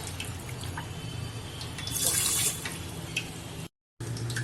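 Water splashes and trickles steadily as four glasses of water are poured into a cooking pan with taro, swelling into a louder rushing pour midway, then a brief cut to silence before the steady flow resumes.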